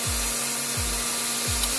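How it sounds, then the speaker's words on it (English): Wooden flywheel wheel spun on a drill while being sanded, a steady whirring rub with three quick drill spin-up whines pulsing in a regular rhythm, close and loud. "I've already started just sanding it by putting it on the drill"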